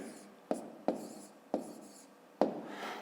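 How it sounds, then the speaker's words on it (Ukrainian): A pen scratches out an equation answer by hand on paper, four sharp taps and strokes spaced irregularly over a soft, close scribbling texture. "Ну і записуємо тоді відповідь. Пишемо відповідь."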